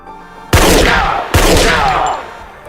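Two loud gunshots from a Breaking Bad TV scene, a sharp blast with a long reverberant tail followed about a second later by a second shot that also rings out and fades.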